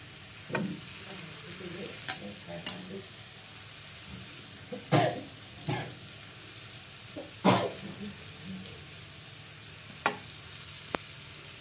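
Potatoes frying in a pan for a village-style potato chutney, with a steady low sizzle broken by repeated sharp scraping clicks of a spoon stirring, close up and with no talk.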